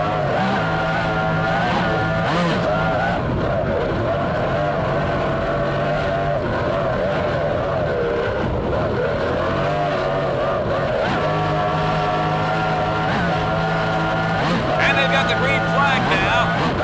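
A 28-foot Douglas Skater offshore racing boat powered by 2.5 EFI outboards, recorded at the start of a 1996 offshore race, drones steadily and loudly throughout with shifting engine tones, while a commentator talks over it.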